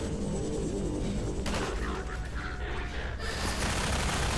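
Gunfire in the video game Half-Life 2 during a rooftop fight against Combine soldiers, a dense, loud stretch of shots and explosive booms with layered battle noise throughout.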